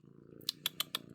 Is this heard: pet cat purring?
yes